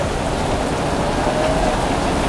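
Rain pours in Jakarta with a dense, steady hiss that stays constant throughout, loud and close with no voices over it.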